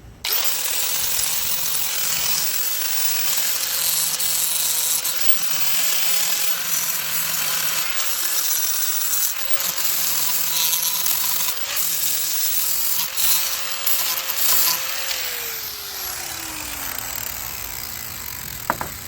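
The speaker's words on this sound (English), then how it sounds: "I'm going to use my grinder, and I'm going to smooth out these splines all around this axle" An angle grinder works the splines of a Troy-Bilt lawnmower axle, a loud continuous grinding whine with shifting pitch as the disc presses into the metal, and its tone drops late in the run as the disc spins down.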